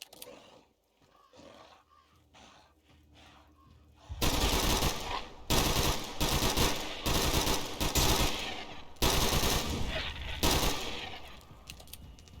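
A light machine gun in a video game fires long, loud sustained bursts with short gaps between them, roaring up after a quieter stretch of ambient game sound.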